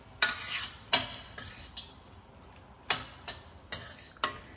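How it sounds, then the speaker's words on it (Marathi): Cauliflower rice with salt stirred in a pan, a spoon scraping and clinking against the metal in about eight sharp, irregular strokes, close and clear with quiet pauses between. "याचं चांगलं मिक्स करून घेते।"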